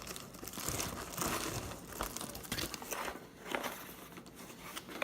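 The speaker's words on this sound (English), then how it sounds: "let's go ahead and unbox it" Cardboard package holding a replacement HID ballast being opened by hand, with steady crinkling, tearing and crunching of packaging at close range, continuous for several seconds.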